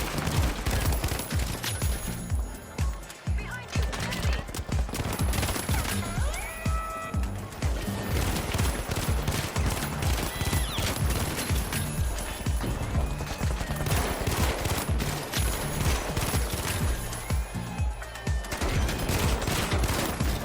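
FAMAS rifle gunfire in the video game The Finals: loud, rapid bursts of shots repeat steadily through the whole stretch, dense and continuous amid other game noise, with no talking.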